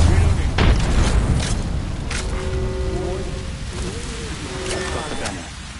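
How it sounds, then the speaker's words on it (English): A thermite grenade thrown and burning in Apex Legends: a heavy rumbling burst followed by a sustained crackling, rain-like burn with sharp clicks and brief tonal whines, loud and continuous. "Thermite grenade out"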